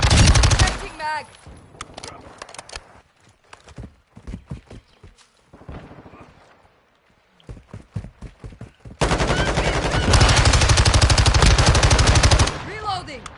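Loud bursts of automatic gunfire from a Modern Warfare 2 match, with single shots and short volleys in the middle stretch and a long sustained rattling burst near the end.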